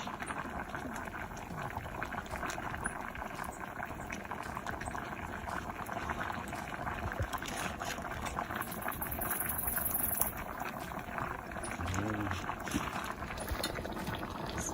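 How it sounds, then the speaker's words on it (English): A steady, continuous bubbling and simmering of liquid in a pot, close and even throughout, with no voices. "So the soup is bubbling nicely"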